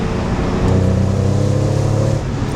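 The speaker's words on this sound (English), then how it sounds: "you definitely hear more induction noise from the front than you do of the exhaust noise on the back" A 600-horsepower BMW E46 M3 on coilovers drones from inside the cabin while driving, its engine induction noise steady and loud under part throttle, swelling briefly in a firmer surge before settling back to a constant hum.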